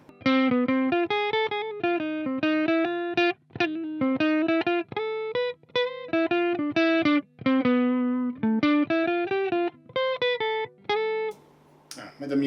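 An electric guitar plays a run of clean, sustained single notes through a Brunetti Pleximan amplifier, phrases broken by short gaps, with a brief noisy burst at the end.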